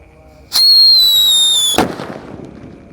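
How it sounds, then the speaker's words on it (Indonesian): Blackbuster firecracker set off at night during Ramadan: a sharp whistling shriek rises suddenly and holds for over a second, then ends in a loud burst with crackling that fades away. "yang akan kita nyalakan di sini ada Blackbuster. Kita lihat, kita dengarkan suaranya. Sudah menyala."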